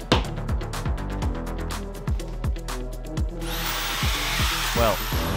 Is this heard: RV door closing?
no